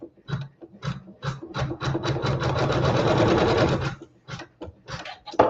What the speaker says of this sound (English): with that same thread we can sew our tack down.